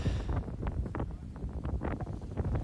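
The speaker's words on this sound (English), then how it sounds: "it's very windy up here, and you can tell from the audio there" Strong wind gusting off the Pacific Ocean at an Estero beach buffets the microphone, a loud continuous low roar with repeated bursts of rumble and no talk.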